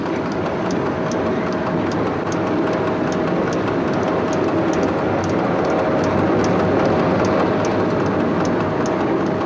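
Steady rumble and rhythmic rail clatter inside the cab of SNCF CC 6524 locomotive running toward Limoges, with a continuous mechanical drone and regular wheel clicks, loud and constant with no talk.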